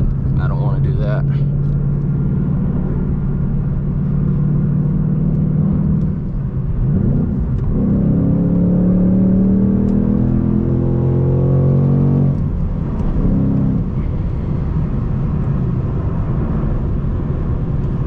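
Car cruising on a road at 55 mph during an early morning drive, a steady close engine and road rumble with a shifting engine tone partway through, running continuously under the driver's talk.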